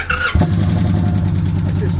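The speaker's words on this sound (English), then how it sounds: "here is the button to start the bike" An Indian motorcycle engine starts: a short electric starter whirr catches into a loud, steady, low idling rumble close to the bike, with someone talking over it.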